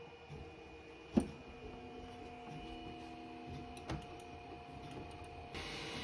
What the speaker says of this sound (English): I'm printing my black parts on my backup printer, FlashForge Finder.